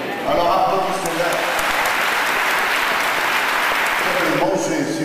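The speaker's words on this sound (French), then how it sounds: "Alors applaudissez-la." Audience applauding a choir fills the room with dense, steady clapping from start to finish, loud and sustained, briefly thinning near the end.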